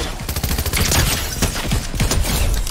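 Rapid Fortnite gunfire rattles in a loud, dense burst of closely spaced shots, sustained for a few seconds with hardly any break, sharp and close up front.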